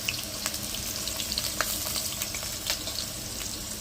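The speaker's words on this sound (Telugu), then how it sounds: "ఎర్రగడ్డలు అయితే ఎగినాయి" Onions and green chillies sizzle and fry in hot oil as the base of an Andhra-style mango fish curry, a steady close crackle with small pops and occasional stirring scrapes.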